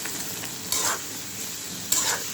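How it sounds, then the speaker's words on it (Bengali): Potatoes, tomatoes and small fish such as tengra and puti being cooked down in a pan, a constant close sizzle with two brief louder scrapes of stirring, no voices over it. "এটা আমি ভালো করে এখন কষাবো, তারপরে জল দিব।"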